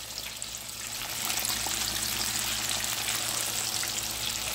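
Breaded perch, swai and catfish deep frying in hot oil, a steady bright sizzle that swells louder after a second and holds constant, close up with no talk.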